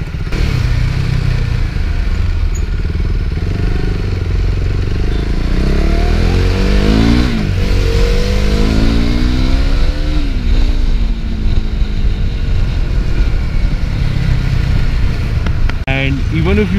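A motorcycle engine runs loud and close for the whole stretch, its pitch climbing and falling in several revving sweeps over a steady rumble.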